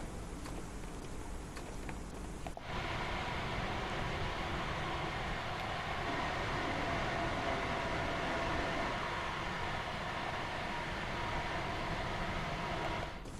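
A Class 314 electric train on the Cathcart Circle Line in Train Sim World 3 runs with a steady rumbling, whirring roll and faint rhythmic ticking, continuous and even after a quieter opening moment.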